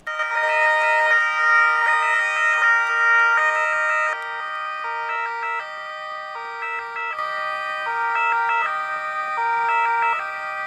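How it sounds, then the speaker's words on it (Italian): Emergency vehicle sirens wail steadily and loudly, several tones stepping up and down in overlapping patterns, sounding continuously with no voices, as service cars salute emergency room staff in an Italian city. "L'omaggio con le sirene spiegate delle auto d'ordinanza"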